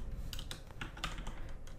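A system name is typed on a computer keyboard, a quick, close run of soft irregular key clicks and taps without pause, with no talking.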